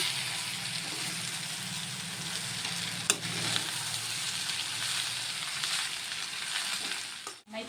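Spinach rice with lemon juice being stirred in a hot pan, a continuous soft sizzle with scraping mixing strokes and one sharp knock partway through.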